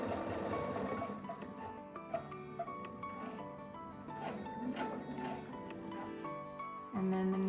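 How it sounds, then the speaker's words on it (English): A domestic sewing machine stitches a partial seam in a quilt top, its motor running in short bursts with a steady mechanical hum and needle clatter, fairly quiet and close. "So I'm going to sew just to the right of this point here."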